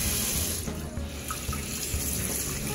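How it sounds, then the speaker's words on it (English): Kitchen tap water runs steadily into a sink while a raw turkey is rinsed, a continuous splashing wash at close range with no voices. "lift it up and give it a good rinse. Get some water in there."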